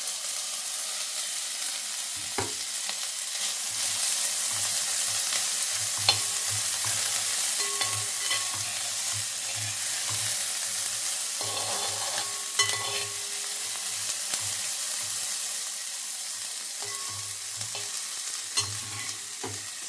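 Onions, ginger and garlic fry in a pan, a continuous close sizzle broken by repeated scraping stirs and occasional light clinks of a spoon against the pan.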